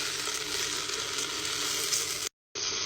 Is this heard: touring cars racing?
no